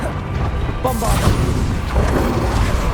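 Bombarda spell blast in Hogwarts Legacy, a heavy booming burst that erupts suddenly and rumbles on amid loud game combat noise.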